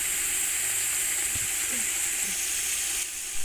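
Shredded cabbage hits a hot pan of vegetable fried rice in progress, giving a steady, loud sizzle and frying hiss throughout with small stirring clicks underneath.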